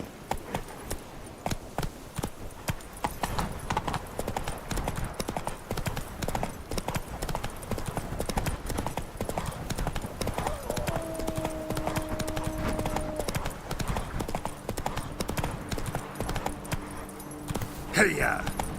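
Roach, the horse in The Witcher 3, gallops in a steady, loud clip-clop of hooves that runs throughout, with brief game voices and a held musical tone mixed in partway through.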